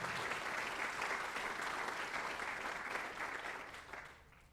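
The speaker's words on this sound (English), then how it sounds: "let's give a round of applause for Sky Dreher" A crowd at a high school athletics spring signing day claps for a student athlete, with steady, dense applause that holds, then gradually fades out toward the end.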